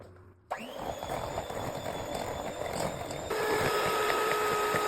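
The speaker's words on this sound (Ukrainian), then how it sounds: "я все-таки спробую його ще перебити блендером" A hand blender starts abruptly and runs continuously whipping lumpy cream for a meringue roll, a steady whirring motor hum, shifting to a slightly higher pitch partway through.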